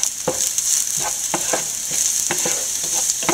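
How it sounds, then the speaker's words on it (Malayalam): Curry leaves sizzling in hot oil for a couscous upma: a steady bright crackling hiss, close and loud, with faint stirring scrapes recurring through it and no talk. "അതിനുശേഷം നമ്മൾ കുറച്ച് കറിവേപ്പില ഇടുക"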